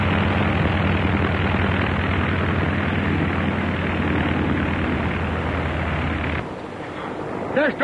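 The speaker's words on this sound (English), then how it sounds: "There's Dorothy's plane" A propeller airplane engine drones loudly and steadily, then cuts off abruptly near the end, leaving quieter background sounds.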